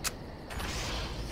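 Security door in the Far Cry video game unlocking with a brief sharp click, then rumbling open with a steady mechanical grinding and whirring that carries on to the end.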